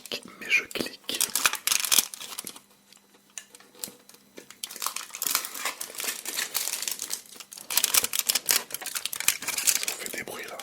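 Close, intense mouth sounds come from someone eating chocolate with almonds: wet chewing and smacking with bursts of crinkling wrapper. Quiet whispered speech surrounds the eating, and there is a brief quieter pause partway through.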